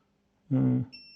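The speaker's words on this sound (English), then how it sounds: "so this is going to beep" A brief electronic beep sounds while a Foxeer ESC circuit is probed on a workbench, a close buzzy tone lasting about a third of a second, followed by a faint thin high whine.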